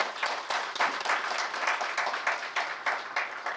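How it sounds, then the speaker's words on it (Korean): A seated audience at a commemorative foundation celebration applauds steadily, moderately loud, with the clapping swelling and easing in soft waves, and no voices over it. "여러분 박수 부탁드립니다."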